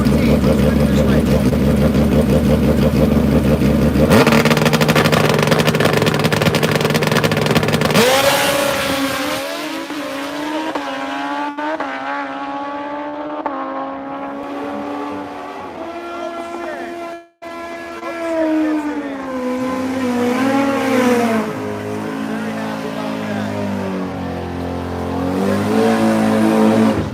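Hayabusa and GSX-R 1000 motorcycles at a drag race qualifying event, engines roaring loud and continuous with rising and falling revs that sweep up through the gears, a brief dropout midway, then revving again.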